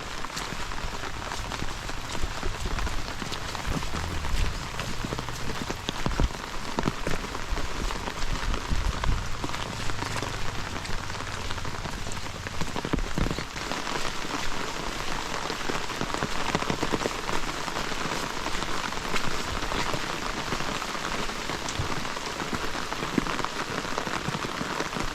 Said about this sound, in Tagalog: Malakas na naman ang ulan mga kabayan.